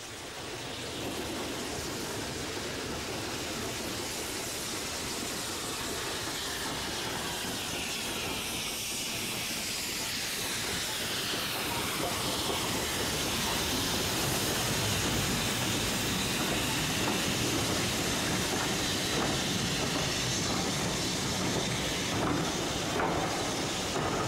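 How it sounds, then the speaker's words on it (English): British Railways' last steam locomotive climbs the severe 1-in-49 gradient from Grosmont to Goathland, heard as a continuous loud roar of hiss and steam that swells steadily and grows fuller toward the end. "the engine is seen at the top of the severe gradient at 1 in 49 from Grosmont to Goathland."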